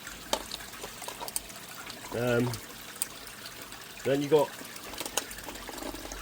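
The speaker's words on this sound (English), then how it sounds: "Sorry about that noise of that water." Water trickling and splashing beside a garden pond, a steady low wash with two brief louder gurgling bursts, while someone talks over it.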